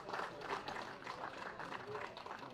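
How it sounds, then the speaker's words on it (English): Audience applause for a race group at a kart racing awards ceremony, a steady wash of clapping held at an even level for a couple of seconds, with voices mixed into the crowd noise. "ladies and gentlemen, applause for the race group"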